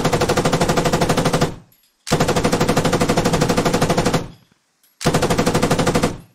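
Rapid automatic gunfire in the military shooter Squad, three long bursts of fast, evenly spaced shots, loud and close, separated by short silent gaps.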